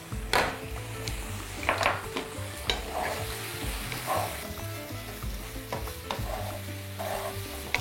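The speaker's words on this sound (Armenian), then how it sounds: "Խառնենք խնձորը։" Apple pieces sizzle and fry in a pan while a utensil stirs and scrapes them, with steady crackling and repeated clinks against the pan, close and continuous, without voices.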